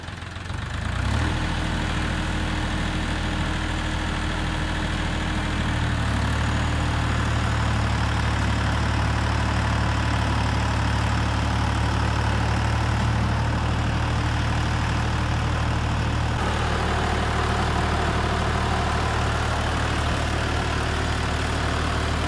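A DTZ 5354 tractor runs under load while ploughing, its engine giving a steady, loud low drone that holds for the whole stretch, with a slight change in tone partway through and no talking.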